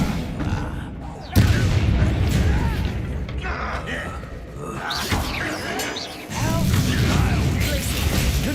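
Bombarda and Confringo spell blasts in the Hogwarts Legacy video game go off as sudden booming explosions with crashing debris, several bursts over the battle noise, while a voice talks in between.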